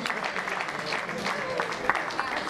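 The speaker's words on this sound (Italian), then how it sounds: "L'applauso per Guglielmo De Nobile." Audience applause at an outdoor amateur cycling festival prize ceremony, a steady patter of clapping from a modest crowd mixed with an announcer speaking over a loudspeaker.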